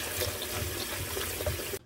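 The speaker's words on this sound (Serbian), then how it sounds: "Testeninu uzmem metalcem u cepku i samo je dobro isperem." Cooked macaroni rinsed in a metal colander under a running kitchen tap, a steady close rush of water splashing through the pasta and strainer for almost two seconds before stopping abruptly.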